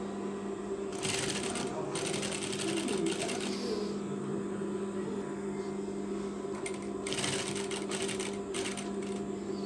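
Sewing machine stitching the collar to the neckline of a Turkish half double-breasted coat, running in two loud rapid bursts early and late over a steady motor hum, with a voice faintly in the background.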